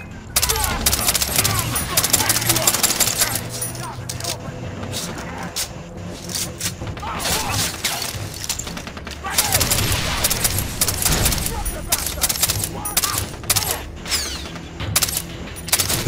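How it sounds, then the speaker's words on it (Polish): Rapid bursts of Famas (F1) assault rifle fire in Far Cry 3, dense and loud throughout, with crackling shots and explosive booms layered over continuous game noise. "strzela seriami w ogóle. Jest nazwany F1, ale to jest Famas"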